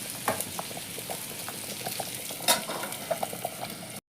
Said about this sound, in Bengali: কুমড়োটাকে আমি ঢাকা দিয়ে দিয়ে একটু লাল লাল করে ভেজে নেব